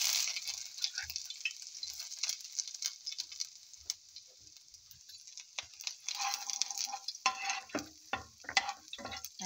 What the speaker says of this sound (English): Now oil is already hot. Now we can put first this ginger.